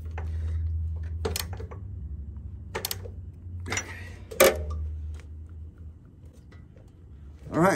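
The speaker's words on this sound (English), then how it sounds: "Shorter ratchet works better in here" A short ratchet tightening bolts on the oil tank of a 2013 Harley-Davidson Heritage Softail, brief clicking bursts spaced a second or so apart over a low steady hum, close, with some faint talk.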